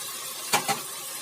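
Chicken being fried in a pan, a steady soft sizzle with two brief scraping stirs close by, no voices.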